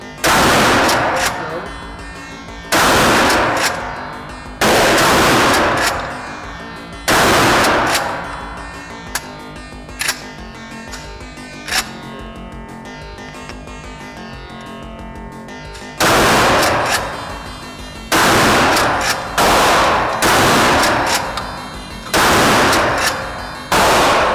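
Loud shotgun blasts from an H&R Pardner Pump pump-action shotgun in a video game, about eleven booming shots in two clusters with ringing tails and a quieter stretch of clicks and ambience between them.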